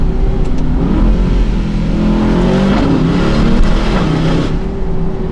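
An Aston Martin DBX 707 SUV's engine, loud and close, roaring and revving continuously while its sound reflects off a low wall beside the road, with no talk.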